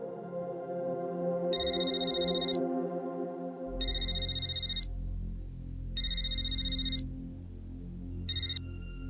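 A telephone rings while someone calls their father: four bursts of bright electronic ringtone, evenly spaced with pauses, heard over a low background hum, with no voices.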